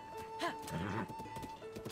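Horse hooves clip-clop in the video game Zelda: Tears of the Kingdom, with a whinny and a steady musical tone behind, faint and a little distant.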